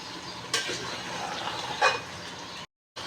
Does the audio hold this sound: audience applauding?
no